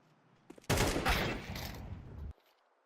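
A burst of rapid AK rifle fire in a video game rattles out loud and close for under two seconds, preceded by a brief click and followed by quiet.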